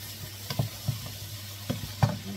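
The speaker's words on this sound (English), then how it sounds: "Let's stir again." Fried rice with green peas and prawns being stirred in a pan: a few soft scraping knocks of the utensil over a quiet sizzle, close and fairly faint.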